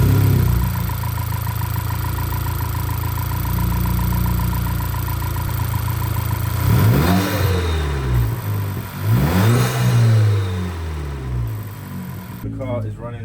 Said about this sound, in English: Let's start the car and have a listen and see what it sounds like.